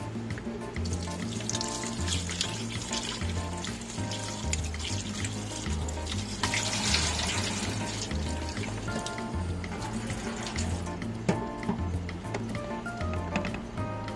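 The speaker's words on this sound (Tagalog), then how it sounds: "Hugasan muna natin." Running tap water rinsing shrimp in a sink while preparing tempura: a steady, moderately loud stream splashing and trickling throughout, with brief clinks and shifts as the shrimp are handled, no voices.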